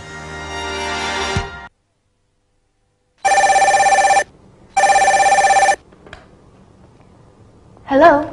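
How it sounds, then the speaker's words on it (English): Office telephone bell ringing in two loud, even bursts separated by a short pause, after a stretch of other sound and silence, with a brief voice-like sound at the end. "Answering the phone."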